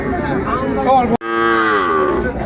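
A young bull or calf at Ambari cattle market lets out a loud, close moo, broken by a brief gap, then a second drawn-out bellow with busy market noise behind.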